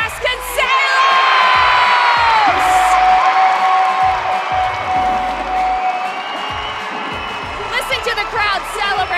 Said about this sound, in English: Crowd celebrate.